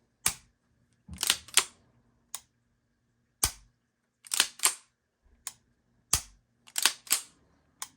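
Dry-fire trigger pulls and slide racking on a Springfield Prodigy DS 4.25 pistol, a series of sharp, close metallic clicks and snaps in small irregular clusters with short quiet gaps.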